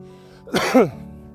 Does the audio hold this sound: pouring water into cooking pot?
no